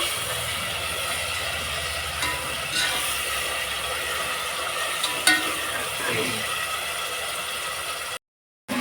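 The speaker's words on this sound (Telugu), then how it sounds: "టమాటాలు కూడా బాగా ఫ్రై కావాలి" Onions, green chillies and tomatoes fry in a pan for a chicken feet fry, giving a steady close sizzle with occasional scraping and stirring clicks.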